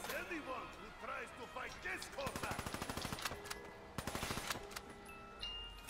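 Rapid bursts of automatic gunfire from a gun in a PS4 zombies video game, two sharp rattling volleys of evenly spaced shots over game sounds and background effects.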